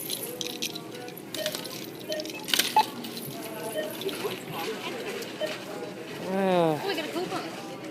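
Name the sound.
keys jangling while digging in a purse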